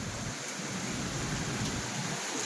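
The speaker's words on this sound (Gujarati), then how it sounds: "તો સારો એવો વરસાદ આવી રહ્યો છે." Heavy monsoon rain pours steadily and loudly, a dense continuous hiss with no voices over it.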